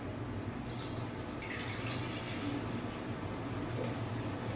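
Active, fizzy kombucha pours steadily from a jar, a continuous liquid splash and trickle with no pauses and no voices.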